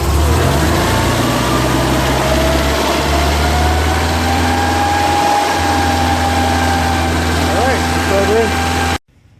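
A Pinzgauer's carbureted engine, being worked on with its front carburetor top removed, runs steadily throughout, a loud continuous engine drone that cuts off abruptly just before the end.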